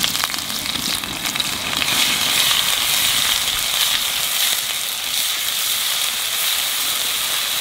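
Garlic and ginger paste sizzles steadily in a hot pan for a chicken dish, a continuous close frying hiss that holds at an even level with no voices.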